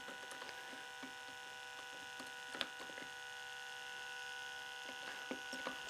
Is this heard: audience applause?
no